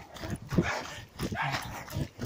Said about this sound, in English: There's a dog in the way.